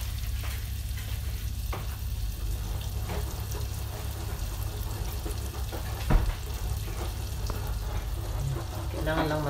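A small amount of butter melting and frying in oil in a pan, giving a steady low sizzle with occasional clinks of a utensil. A voice speaks faintly over it.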